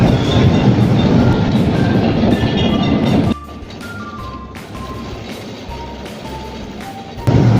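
A slow-moving Kolkata tram rolls along its line. A loud, dense rumble cuts abruptly to a softer running hum with faint squealing tones, then swells loud again at the very end. No voices.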